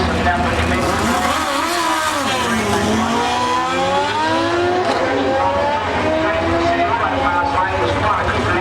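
Drag racing motorcycles at a quarter-mile strip launch and roar with sustained, loud engine noise, rising revving pitch sweeps layered over a dense rumble, with a commentator talking throughout.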